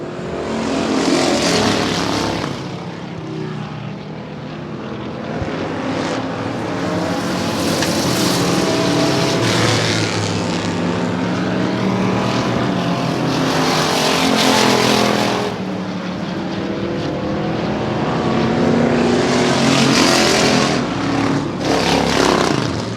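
Race cars lapping a dirt oval at Hermiston Raceway, a loud continuous roar of engines that swells and fades as cars pass repeatedly, with no speech over it.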